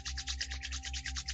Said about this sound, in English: placing the hands together in front of our chest, in front of our body, rubbing them together, creating some heat